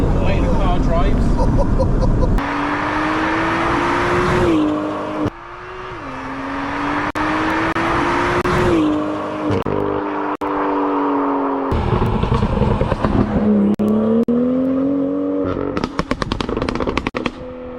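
A BMW M2 with a stage 1.5 package, including a 3-inch Cobra downpipe, drives and accelerates hard, engine rising in pitch through repeated gear pulls with abrupt shifts and crackles, loud and close, with voices talking over it.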